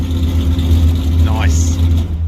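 A Datsun GTR replica car engine runs up close with a steady, throbbing low rumble at a fairly even pitch, holding constant rather than climbing sharply.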